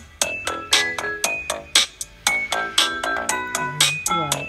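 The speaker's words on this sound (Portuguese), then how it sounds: "Olha o som que tem esse telefone, gente." Game sounds from the Red Bull game played through the loudspeaker of a Samsung Galaxy S9 Plus phone: loud, rhythmic bright chimes and pings repeating in quick succession, with no voices.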